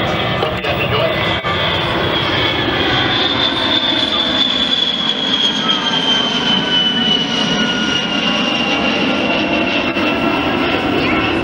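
A T-51 Mustang airplane engine drones loud and steady at an airshow, the continuous roar filling the whole stretch with a faint high whine rising above it and no pauses.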